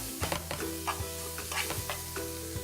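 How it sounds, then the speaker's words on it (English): Onions sauteing in a hot pan that steak was just cooked in, a close, steady sizzle broken by repeated scraping and stirring strokes and faint metallic clinks. "I'm going to add my onions to the hot pan that I cooked my steak in. And just saute these around."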